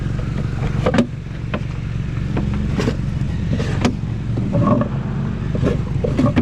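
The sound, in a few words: convertible Ford Mustang driving by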